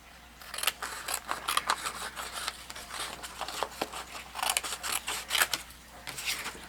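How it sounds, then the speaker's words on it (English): Scissors cut through a full-length card in a run of close, crisp snips and rasping slices, each stroke distinct and fairly loud against a quiet background. "I'm going to cut this off"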